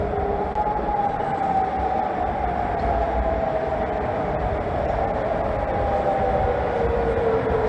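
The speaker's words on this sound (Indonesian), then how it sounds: "Suara sirine terdengar di Amman, Yordania pada hari Senin" A long wailing air raid siren tone in Amman, Jordan slowly falls in pitch, heard from a distance over a constant low rumble of background noise.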